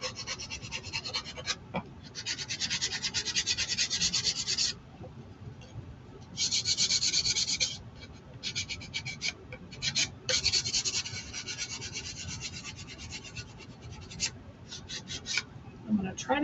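Steady rasping of sandpaper on wood in long back-and-forth strokes, with brief pauses between passes, close up and continuous.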